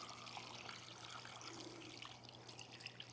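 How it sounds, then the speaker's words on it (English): A small indoor water feature pump runs with a water jet, a faint steady trickling and splashing over a low hum, quiet and close throughout. "I can hear the pump."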